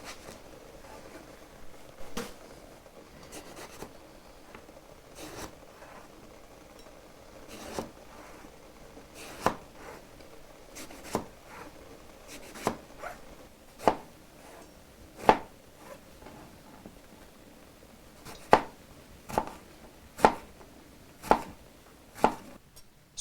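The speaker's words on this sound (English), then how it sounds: "I like to cut the eggplant into 1/4 inch pieces" A knife cuts eggplant into quarter-inch pieces on a cutting board, giving single sharp chops at a slow, uneven pace. The taps start soft and grow louder and crisper toward the end.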